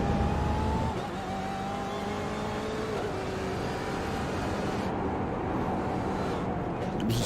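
Onboard race car engine at Suzuka in a racing video game, a loud steady drone that drops in pitch under braking near the start, then climbs again through the gears as it accelerates.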